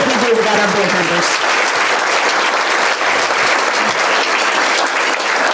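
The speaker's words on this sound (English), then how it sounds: "Let's have a big round of applause" A big round of applause at a chamber of commerce women's achievement awards luncheon, loud sustained clapping from a full room with faint voices underneath.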